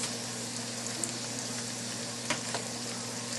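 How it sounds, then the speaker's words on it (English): Tortilla chips frying in hot oil in a pan for refried beans, a steady dense sizzle with a low hum underneath and a couple of small crackles and pops, close and continuous with no talking. "use some of that excess oil, not all of it. Put those in there and just flip them till they get like a nice color"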